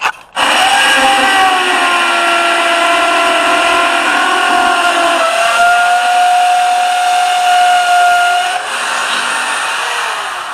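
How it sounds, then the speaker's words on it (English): A powerful drill drilling a pilot hole in a support whines loudly and steadily, its pitch wavering slightly as it bores in, running continuously for about ten seconds. "I'm not running this big powerful drill for very long"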